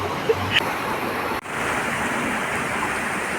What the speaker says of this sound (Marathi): त्या पोल जवळून कसं पाणी फुटलंय खालून सगळं पाणी येत आहे